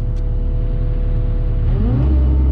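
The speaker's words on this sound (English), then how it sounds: "And I'll start the machine up and we'll see what that looks like." A Cat 305E2 mini excavator's engine rumbles steadily up close, then its revs climb to a louder, deeper roar near the end.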